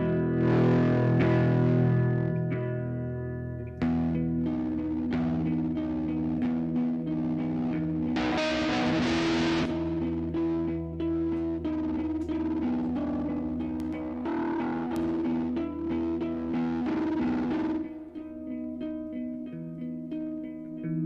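An electric guitar plays through an amp with distortion, producing thick sustained chords and a gritty, echoing tone that rings out for a long stretch, with a brief burst of brighter noise midway and no talking.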